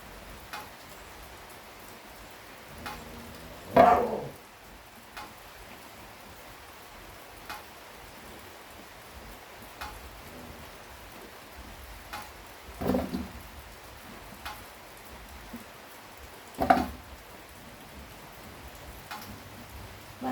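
Steady rain falls with a soft, even patter, broken by a few louder splashes or drips at scattered moments; quiet and unaccompanied by voices.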